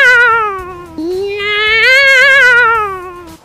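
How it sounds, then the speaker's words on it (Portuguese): A cat lets out a long, loud, wavering scream that rises and falls for several seconds, close up and alone. "Você acabou se espantando com o grito do gato."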